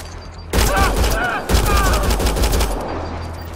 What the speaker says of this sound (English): Are you really shooting your gun?